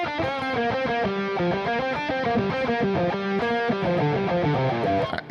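A distorted electric guitar plays a steady melodic phrase at an even, flat loudness throughout, with no swells or accents.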